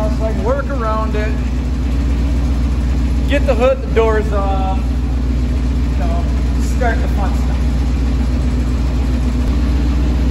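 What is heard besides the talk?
IH Loadstar truck engine running, burning off degreaser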